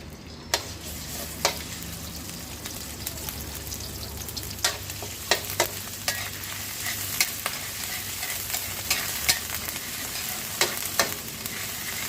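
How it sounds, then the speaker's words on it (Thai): Steady hot-oil sizzling of curry paste frying in a wok, with sharp clicks of a utensil stirring and scraping at irregular intervals. "เพื่อผัดพริกแกง"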